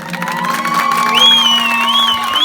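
Wedding guests at a Turkish celebration break into cheering and whoops, with a crowd roar building steadily over a sustained steady tone and whistle-like pitches, loud and close throughout.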